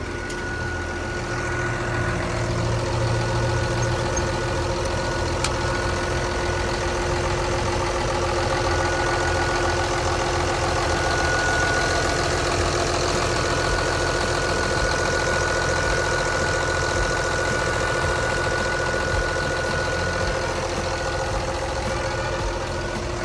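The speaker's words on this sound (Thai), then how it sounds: "แล้วก็เสียงการทำงานของเครื่องยนต์ของเขา เนี่ยก็ทำงานได้ค่อนข้างเงียบดีมากๆด้วยนะ" A Komatsu WA380-6 wheel loader's diesel engine idles steadily up close, a continuous low rumble with a faint whine on top and no change in pace.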